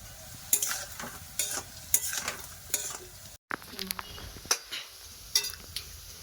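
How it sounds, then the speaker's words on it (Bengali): Onion fritters (piyaji) fry in hot oil, a constant sizzling hiss punctuated by rhythmic scraping and clinking of a metal spatula stirring in the pan, close up with a brief cut midway and no talking. "এই যে পেঁয়াজি করছি"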